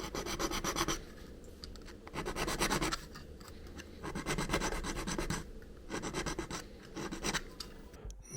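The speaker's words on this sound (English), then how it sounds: "with a manual file I remove the large parts of excess solder around the poles" A hand file and polisher work excess solder off the poles of an H0 scale model railroad guardrail, making rhythmic bursts of scraping and rasping strokes separated by brief pauses, close and fairly loud.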